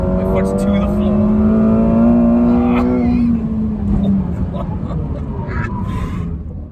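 A McLaren 720S at full throttle in fourth gear, its engine note climbing hard and loud for about three seconds before easing off into road and wind roar.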